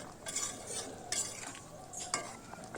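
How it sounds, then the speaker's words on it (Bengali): A pangas fish and brinjal curry gets stirred in a pan, with soft scraping strokes and a light wet sizzle at a close, moderate level, no talking. "সেটা এবার এর উপরে দিয়ে একটু ভালো করে নাড়াচাড়া করে ঢাকনা দিয়ে 5 মিনিট রান্না করে নেব"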